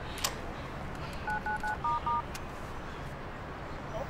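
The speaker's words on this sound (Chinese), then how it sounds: "喂，喂，郑楚耀，居然敢挂我电话！" A telephone handset sounds a short run of beeping touch tones after a call is hung up. The tones are distinct and evenly spaced over a faint, steady background hiss, with no voices.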